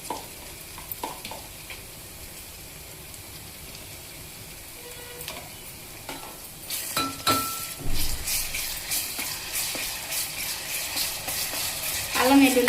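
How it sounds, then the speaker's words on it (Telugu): Ginger garlic paste hits a pan of frying onions and green chillies for a mutton curry: a quiet sizzle at first, then louder frying and stirring with spoon scrapes and clinks in the second half. "ఇప్పుడు అల్లం వెల్లుల్లి పేస్ట్ వేస్తున్నాను."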